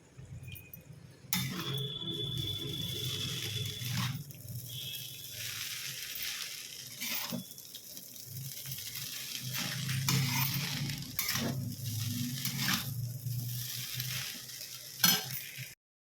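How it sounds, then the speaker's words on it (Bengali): A pan frying with turmeric and salt gives a steady, close sizzle, with intermittent scrapes and clinks of stirring and a sharper clink near the end. "হলুদ আর নুন দিয়ে ভাজতে বসিয়ে দিয়েছি"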